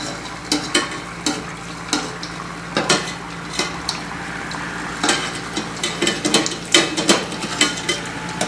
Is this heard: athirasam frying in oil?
yes